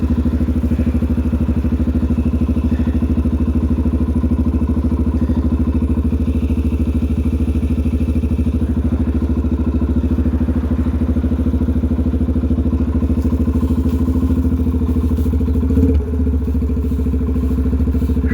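Dirt bike engine running steadily while riding around a neighborhood, a continuous loud drone that holds for the whole stretch, with a brief clatter near the end and no talking.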